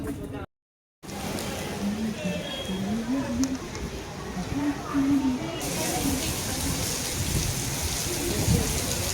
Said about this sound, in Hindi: बारिश हो रही है बहुत ज़ोर से बाहर